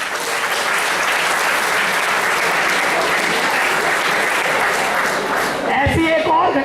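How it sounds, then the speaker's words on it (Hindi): Loud, sustained applause from a large audience at a college old students' association gathering, dense and continuous, fading slightly at the end as voices emerge. "ताली बजा दीजिए"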